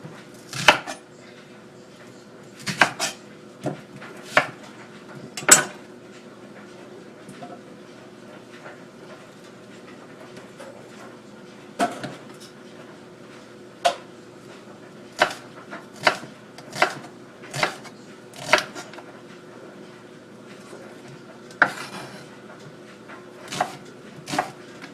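A knife chops white onions on a cutting board in sparse, sharp close knocks, single cuts and short bursts separated by quiet pauses.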